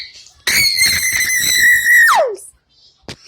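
A person screams loudly and alone at close range, one long sustained shriek that slides downward at the end and stops abruptly, followed by a short quiet pause and a brief tap.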